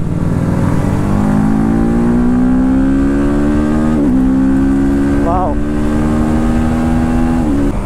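A TVS Apache RTR 310 motorcycle accelerates hard in track mode, its loud, close engine tone climbing steadily, with quick upshifts through the quickshifter breaking the rising whine before it pulls on again.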